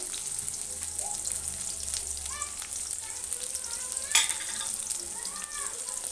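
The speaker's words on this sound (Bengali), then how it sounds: "এবার আমি এখানে দেখো বিনসগুলোকে আমি ভেজে নেব।" Green beans fry in a kadai with a steady close sizzle, broken by occasional stirring scrapes and clinks and one sharper knock midway; no one speaks.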